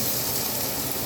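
Chopped garlic sizzles steadily in a hot pan, a dense close hiss that stays loud and even throughout with no voices.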